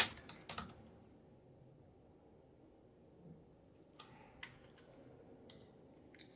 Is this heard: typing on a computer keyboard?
yes